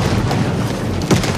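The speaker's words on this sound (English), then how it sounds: "and there was a large explosion." A large explosion at an FCC refinery, with a failed slide valve, heard as a continuous deep rumbling roar that swells into a heavier boom near the end, loud and without speech.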